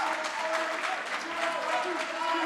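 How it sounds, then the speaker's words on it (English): A crowd at a student government debate claps steadily in a continuous round of applause, dense and sustained from start to finish. "If we now would like to give them a round of applause"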